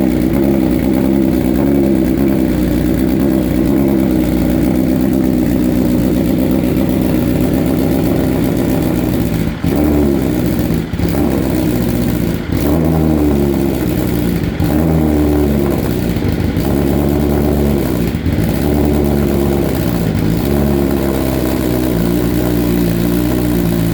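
A 2020 BMW S1000RR M sportbike engine running after a cold start and warming up, loud and close, a steady idle with a series of short revs and blips partway through.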